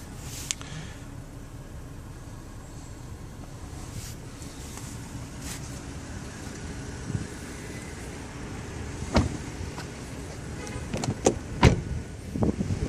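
A rear power window on a 2013 BMW 535i M Sport (F10) runs down and back up, a faint steady electric motor hum in a quiet car, followed by a few soft clicks and thumps near the end.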